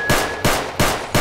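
Four sharp pistol shots ring out in steady succession, each loud and close with a short crack and quick decay, from a handgun in the video game STALKER Pain of the Past.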